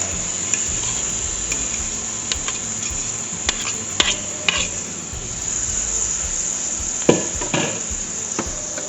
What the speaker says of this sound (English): I'm then going to drop in all of my shrimp